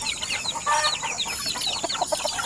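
Chickens and a rooster cluck busily in a backyard flock of mixed black birds, a dense chatter of close, overlapping calls with no talking.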